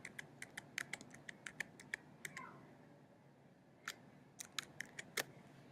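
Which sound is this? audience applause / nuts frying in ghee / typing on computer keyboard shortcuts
typing on computer keyboard shortcuts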